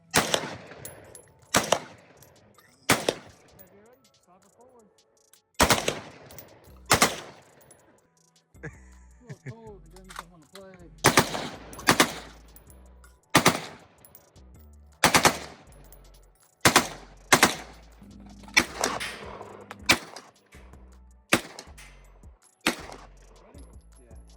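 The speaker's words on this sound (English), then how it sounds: "I've never shot full auto like that." Short full-auto bursts from an M16 rifle at a California range, sharp, loud and close, repeated about a dozen times with pauses between them and some talk in the gaps.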